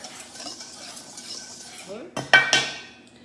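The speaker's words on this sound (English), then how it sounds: "I'm just going to whisk the dry ingredients together." Dry baking ingredients are whisked together in a bowl: soft scraping swirls, then a few bright clinks of the whisk striking the bowl near the end.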